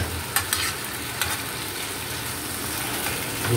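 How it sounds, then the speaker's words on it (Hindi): Meat and tomatoes fry in a pan for a fried gosht karahi, a steady loud sizzle with a few clinks of stirring near the start. "और इसको फ्राई करते जाएंगे।"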